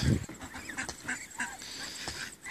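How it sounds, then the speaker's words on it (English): A family of swans calls near an estuary walkway, a series of nasal honking and quacking notes in quick succession, fairly close and clear over light outdoor background. "Nice family of swans there."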